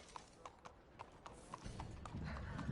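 Horse hooves clip-clopping in a video game, with an evenly spaced run of hollow knocks at a steady walking pace, close up, while a low rumble rises in the second half.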